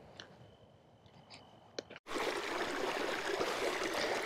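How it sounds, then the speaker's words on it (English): Small stream of water flowing down a canyon in Modena Canyon, Utah, a steady close rushing wash that begins abruptly after a quiet outdoor stretch with faint clicks. "this is a nice little find coming down the canyon. Nice stream of water."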